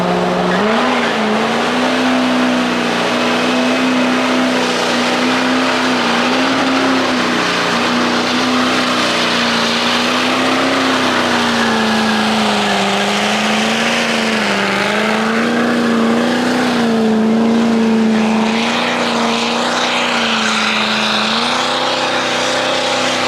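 L5P Duramax diesel truck with a fresh new setup revs hard, a loud, sustained engine roar whose pitch swells and dips slightly, with raspy tire-like hiss over the top.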